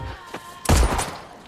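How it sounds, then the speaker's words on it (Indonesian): A single loud gunshot in a film scene, a sharp close blast with a short boomy tail, preceded by a couple of softer thumps. "Andy langsung menembak Neil tepat di kepalanya"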